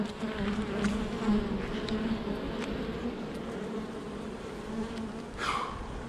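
Honeybees hum steadily around an open hive during an inspection on a hot day in Menton, a continuous close buzzing with individual bees whining past now and then, with no talk.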